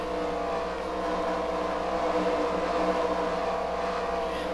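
Stock-car engines from a NASCAR-style racing video game at Charlotte Motor Speedway drone steadily past the finish line, a dense continuous roar of the field with no distinct individual pass-bys and no speech.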